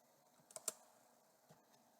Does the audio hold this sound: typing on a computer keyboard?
yes